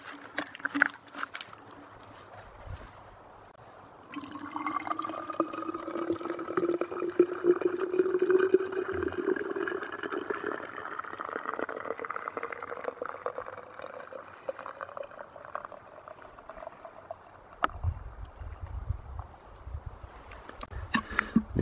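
Boiling water pours into a small Nalgene bottle outdoors while backpacking, a steady gurgling stream whose pitch rises as the bottle fills, close and continuous for most of the stretch.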